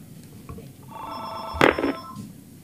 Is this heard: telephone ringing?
yes